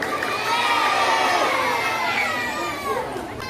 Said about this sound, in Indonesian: Kita berikan tepuk tangan untuk Ananda Gendis